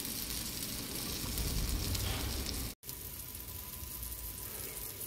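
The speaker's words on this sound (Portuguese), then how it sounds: "Já tô na parte final aqui de fritar ou selar as nossas batatas doces." Sweet potato slices frying in a pan, a loud, steady close-up sizzle and crackle that drops out for an instant before resuming.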